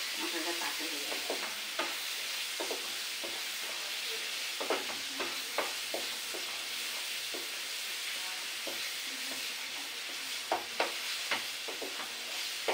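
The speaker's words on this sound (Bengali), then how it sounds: "দিয়ে নাড়াচাড়া দিয়ে ভাজি ভাজি করে কষিয়ে নিচ্ছি। তেলটা আগেতে গরম করে রেখেছিলাম" Spices sizzle and fry steadily in preheated oil as they are stirred in a pan for a meat curry, a continuous hiss broken by scattered scraping clicks of the spatula.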